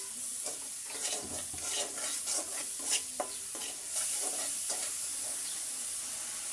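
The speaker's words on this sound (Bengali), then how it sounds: "এবার ভালো করে মশলাটাকে কষিয়ে নেব" Salt, turmeric, ground coriander and chili powder sautéed in oil for a prawn and Malabar spinach curry, with close, repeated scraping stirs over a constant sizzle and no talking.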